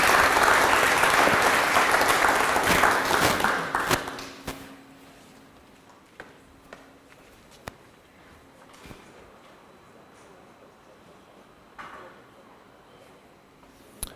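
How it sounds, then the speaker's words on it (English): Loud, dense applause from a crowd for about four seconds, then it stops abruptly, leaving a quiet room with a few scattered knocks and thumps. "Let's give him a huge round of applause."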